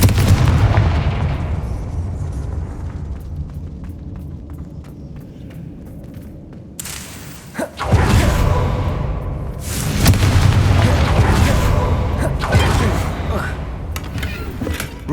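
The Confringo blast spell from Hogwarts Legacy bursts with a loud, booming impact, first as a low rumble and then as a heavier crash followed by crackling debris, while a voice talks over the action.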